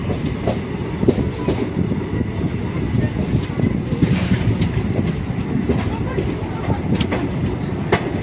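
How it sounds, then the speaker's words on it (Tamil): A train rolls along the railway between Khandala and Karjat, a continuous close rumble with rhythmic clickety-clack of wheels over rail joints and occasional metallic squeals, with faint talk underneath. "பாருங்க, ஏதோ ட்ரெயின் வந்துட்டு இருக்குது."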